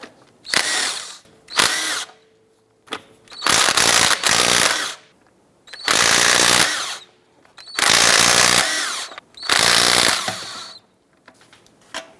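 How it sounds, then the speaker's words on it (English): Power tool with a 22mm socket spinning off lug nuts on a 2010-2016 Cadillac SRX, heard as several loud whirring bursts of one to two seconds each with short pauses between, close up and without talk. "Using a 22mm socket, let's go ahead and remove these lug nuts."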